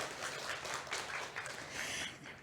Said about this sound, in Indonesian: Boleh tepuk tangan untuk Komdigi?